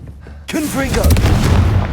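A Confringo spell explosion in Hogwarts Legacy hits as a sudden loud boom that rolls into a sustained rumbling blast, layered with game effects and a shouted voice.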